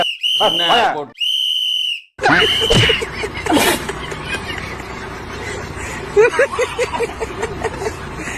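Short piercing whistle blasts, two distinct bursts at the start, followed by a busy street crowd with babble and traffic noise.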